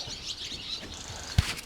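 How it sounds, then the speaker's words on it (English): Faint, high barn swallow chirps twitter on and off over a quiet outdoor marsh background at Point Pelee, with a brief low thump near the end. "All barn swallows."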